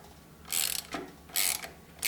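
A ratchet wrench tightens a bolt on a Toro Time Cutter SS5000 zero turn mower, giving three quick bursts of close, crisp ratcheting clicks separated by short pauses, with no talking.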